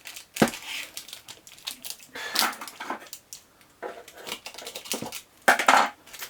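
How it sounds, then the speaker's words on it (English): Kapton tape pulled and pressed around a 12S2P lithium battery pack for a DIY electric skateboard, giving close, irregular crinkling and crackling bursts with short pauses between them. "Let me apply some more kapton tape on this end here."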